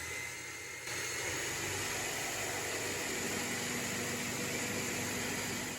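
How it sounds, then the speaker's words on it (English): A blender blending whole pear tomatoes gives a loud, steady whirring roar that starts abruptly and keeps going without a break at full speed close by. "Now we're going to blend up some of these whole pear tomato."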